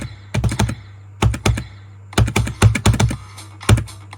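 Rapid mouse clicking during a video game, close and sharp, in quick bursts of several clicks separated by short pauses.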